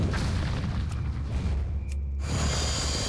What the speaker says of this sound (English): we'll open up with grenades